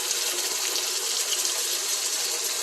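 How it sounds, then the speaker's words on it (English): Beef broth pours in a steady hissing splash into a cooking pot for a kitchen vegetable soup, close by and continuous with no voices. "So we're going to put a little bit of beef broth in."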